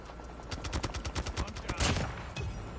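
A burst of rapid automatic gunfire from a DR-H rifle in Call of Duty Mobile, evenly spaced shots firing close and loud for about a second and a half, followed by a short heavier blast.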